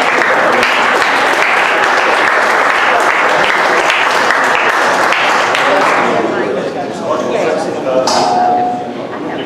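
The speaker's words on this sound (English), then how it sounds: "let's all stand up and give him a round of applause as he makes it to the stage" A crowd at a 1 Million Cups Dallas startup event gives a loud, sustained round of applause as presenter David of 4040 Adventures walks to the stage, thinning toward the end with a few clinks and murmurs.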